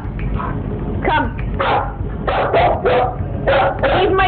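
A dog barks and yips repeatedly at close range, about half a dozen short, sharp barks in an uneven rhythm, loud over a steady background hum.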